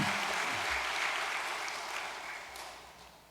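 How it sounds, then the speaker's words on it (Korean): A congregation applauds during a Korean church worship service, a sustained, dense wash of clapping from many hands that slowly fades toward the end. "참 부모님을 위해서 다시 한번 감사의 박수를 보내 올리겠습니다."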